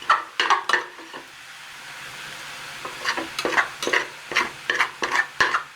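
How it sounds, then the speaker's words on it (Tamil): Kothu parotta is stirred and fried in a pan, with a steady sizzle under bursts of scraping and clacking utensil strokes that come in quick clusters. "பரோட்டாவை அப்பப்போ கிளறி விடுங்க"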